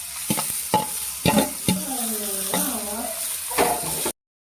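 Urad dal and mustard seeds crackle and sizzle in hot oil in a pan for a thoran dish, with close stirring scrapes and occasional sharp pops, ending abruptly in silence.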